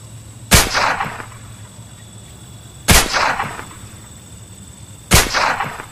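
Three loud sniper rifle gunshots in the video game Lonewolf: A Sniper Story, evenly spaced about two seconds apart, each a sharp crack followed by a short ringing tail over a quiet background.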